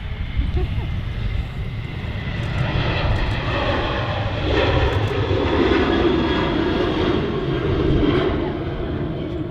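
A Ryanair Boeing 737 at Manchester Airport produces a loud, steady jet engine roar that swells slightly midway, with speech-like murmurs faintly mixed in.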